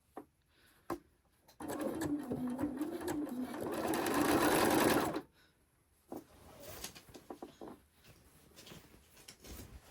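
A sewing machine stitching a quilted Christmas tree skirt, with needle stop down set: short starts, then a loud sustained run of rapid stitching for several seconds, followed by quieter handling and a few brief stitch bursts.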